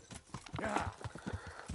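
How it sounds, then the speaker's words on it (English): Horse hooves clip-clop in a steady rhythm while a horse is ridden in the video game Kingdom Come: Deliverance, close and moderately loud, with a brief whinny-like tone partway through. "I can get on my horse and then quickly to Ratay"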